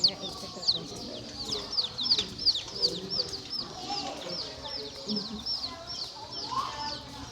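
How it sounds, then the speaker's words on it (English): Backyard chickens, a mixed flock of eight hens kept with two ducks, cluck and chirp repeatedly at close range, a steady chatter of short calls with some background shuffling and faint voices. "And we got 8 chickens and 2 ducks."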